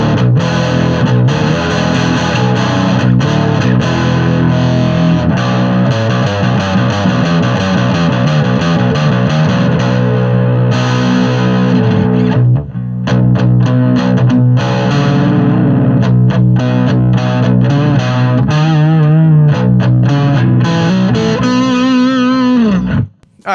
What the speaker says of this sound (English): bridge, single coil